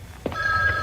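A telephone rings once, with a steady electronic tone building after a brief click and continuing through to the end, close and fairly loud in a quiet room.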